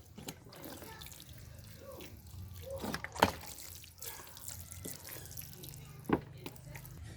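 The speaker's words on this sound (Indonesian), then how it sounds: "siram bagian media tanamnya supaya lembab ya." Water trickles and splashes in short pours onto potting medium in a planter bag while planting red ginger, with soft drips and a couple of sharper splashy bursts heard up close.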